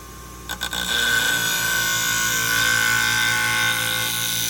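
Fiskars sewing scissors drawn across a 240 grit sharpening stone, a steady, close abrasive scraping that starts after a few brief knocks and continues evenly, with a thin metallic ring running through it.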